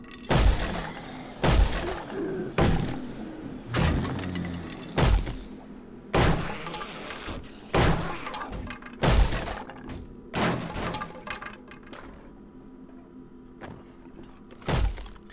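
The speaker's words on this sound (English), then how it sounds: "Oh, this is locked. Not a problem. I got the fire axe." Fire axe repeatedly smashing a locked object in the survival game 7 Days to Die, a steady series of loud, heavy thuds and splintering cracks roughly once a second, with a few clanks between blows.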